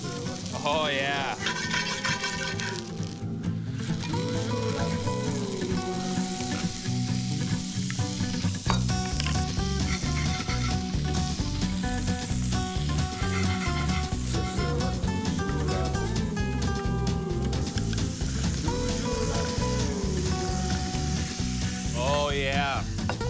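Shrimp sautéing with garlic in olive oil: a loud, continuous sizzle and spatter that holds for over twenty seconds, with a person speaking now and then over the crackle.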